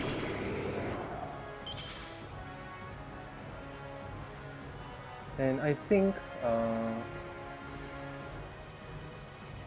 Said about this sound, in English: do I want to stall out the rain?